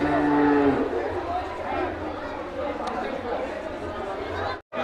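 A large cow lows with a sustained deep moo at a livestock fair, followed by a busy murmur of crowd noise and people talking in the background.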